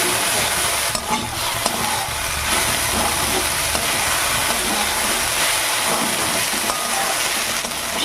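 Okra is stir-fried in a pan, a loud continuous sizzle broken by repeated scraping and stirring strokes, with no voices.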